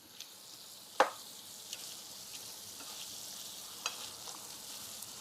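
Gluten-free pasta sauce sizzling quietly in a pan, a faint steady crackle broken by a few sharp clicks and pops from stirring.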